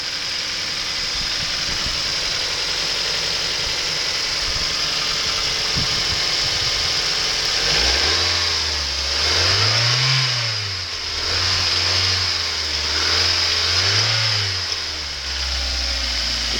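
A 2004 Mazda Miata Mazdaspeed turbo engine with damaged cooling idles steadily, then revs up in several smooth blips that rise and fall before settling back to idle, heard close and alone.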